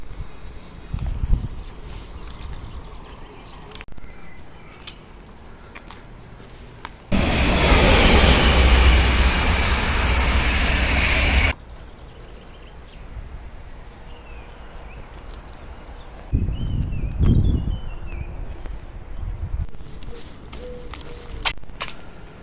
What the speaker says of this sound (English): Now we go along to an out of town train station.